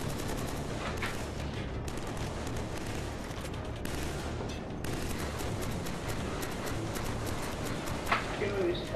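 Dense, continuous gunfire from the video game Killzone 3, played with a Sharp Shooter gun controller, rattling steadily throughout without a clear break between shots, with a few sharper reports near the end.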